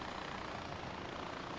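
Helicopter in the video game Far Cry 4, a steady droning rotor and engine whir, continuous and fairly close, with no other sounds over it.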